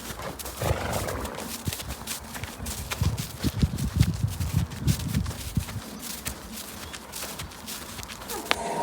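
Horses move about on the ground, with irregular hoof thuds and shuffling steps at moderate distance, a brief snort or whinny near the end, no one talking.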